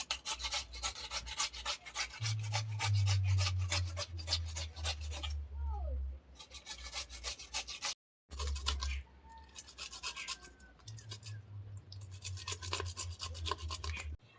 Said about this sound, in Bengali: পেঁপেটা ঘষে নিয়ে চলে এসেছি